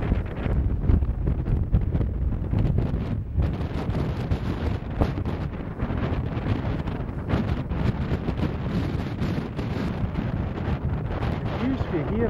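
Cold wind buffets the microphone on an exposed Scottish hillside in Black Hope Glen, a steady loud rumbling roar with gusty swells running throughout.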